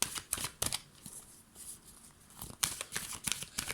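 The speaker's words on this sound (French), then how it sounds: "je vais retirer encore une carte" Tarot cards shuffled and drawn from a deck: quiet papery riffles and flicks in short bursts, a busier cluster early, a pause, then more rapid card snaps near the end, close and soft.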